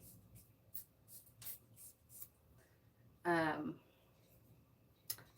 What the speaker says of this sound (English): This is just a little protective spray.